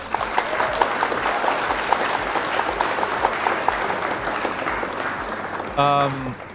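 Steady applause from a crowd at a Flesh and Blood card game tournament, a dense patter of clapping that carries on evenly, with a short tonal sound breaking in near the end.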